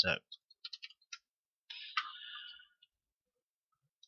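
Computer mouse clicks, a few short, sharp clicks in a quiet room, followed by a brief electronic chime-like tone and then silence.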